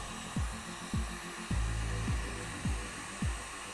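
A heat gun blows a steady hot-air whoosh onto PEX-A pipe, cut by several short low thumps at roughly even intervals as the tool is moved or handled; close and moderately loud, no talking.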